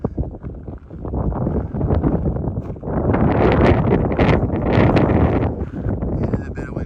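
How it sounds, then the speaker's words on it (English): Strong gusting wind buffeting the microphone on a mountain hike, rumbling and rustling in uneven surges that swell louder in the second half, with no clear talking. "a bit of windy day"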